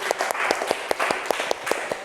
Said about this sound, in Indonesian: tepuk tangan ya buat kita semua.